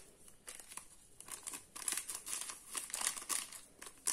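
A small paper packet of vanillin being crinkled and handled close up, giving quiet, irregular rustling and crackling throughout with no talk.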